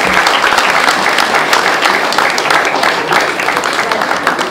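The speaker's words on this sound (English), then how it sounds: "Please put your hands together. Huge round of applause," Loud, continuous applause fills the hall at an Idea gift card launch and meet-and-greet event, steady clapping from a large crowd throughout, close and unbroken.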